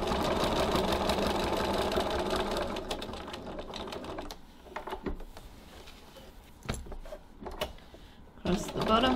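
A sewing machine runs fast and loud while top stitching a diagonal line, then stops about halfway through, leaving quieter handling clicks and scattered knocks before a brief burst resumes at the end.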